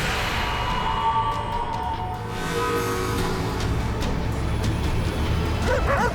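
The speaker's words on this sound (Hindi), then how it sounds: "ये कुत्ता काहे भूख रहा है रे?" A dog barks and yips outdoors near fields in a dramatized scene, the short sharp calls rising over a constant rumbling background, clearest toward the end.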